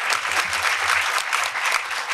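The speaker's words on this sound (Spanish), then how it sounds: "¿Podemos tener otra ronda de aplausos para el Club de Niños y Niñas de Sogeris?" Audience applause at a county State of the County address, steady, dense clapping from a full room filling the whole stretch without voices.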